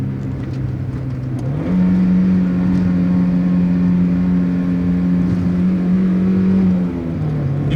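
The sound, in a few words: 1992 Mazda Miata engine revving during heel-toe downshifts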